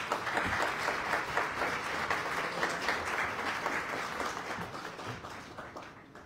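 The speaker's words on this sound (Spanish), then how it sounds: "les voy a pedir un gran aplauso para Yayo Herrera" An audience applauds for author Yayo Herrera at a book presentation, a steady, dense round of clapping that holds for several seconds and eases slightly toward the end.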